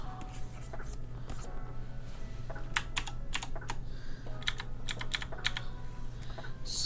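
Computer keyboard typing, a run of quick irregular key clicks and taps at close range over a steady low background hum, with no talk.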